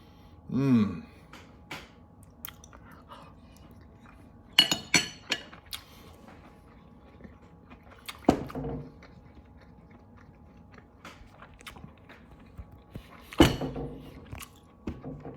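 Someone eats a dish of pan-seared scallops, wilted spinach and yellow rice in a quiet room: a few sharp clinks of cutlery against a plate and soft chewing come in sparse, separate moments, close and faint.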